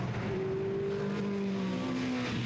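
TVR Challenge race cars at Oulton Park roar past together in 2004, with engine notes rising and shifting as they accelerate, loud and continuous with no talking.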